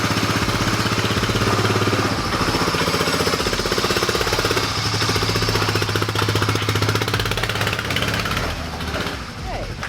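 Loud, close rattling run of a kick-started Honda engine on a 2022 Superjet watercraft, a fast steady mechanical chatter that dips briefly near the end, with voices talking over it.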